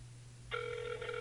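A telephone rings over a call line during a prank call, starting abruptly after a quiet moment and continuing as a steady, bright electronic ring with a brief break partway through.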